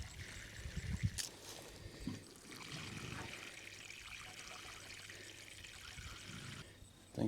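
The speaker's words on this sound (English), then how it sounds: "Last thing we're gonna do is just water them spikes in." Water pours and trickles steadily onto the ground around fertilizer spikes driven in beside fruit trees, a continuous close stream with a few knocks and bumps at the start and end, no talking.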